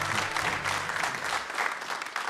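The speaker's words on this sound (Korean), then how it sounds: "다시 한번 큰 박수를 보내주시기 바랍니다" An audience claps steadily, a dense patter of many hands filling the room, with no voices rising above it.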